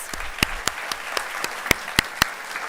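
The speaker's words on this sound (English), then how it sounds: "Let's give another round of applause to Miss Sophia Nelson" A small audience at a high school alumni hall of fame award ceremony claps sparsely, with a handful of distinct, sharp claps spread over a few seconds against a quiet room background.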